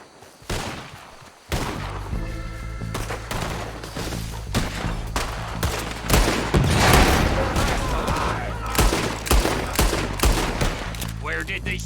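Heavy gunfire crackles through a Red Dead Redemption 2 shootout in rapid, overlapping bursts of close, loud shots. Game voices shout over the barrage.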